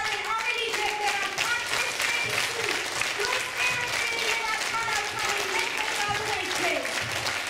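Steady, dense applause fills a church Christmas gathering, many hands clapping continuously at an even level for several seconds, with faint voices underneath.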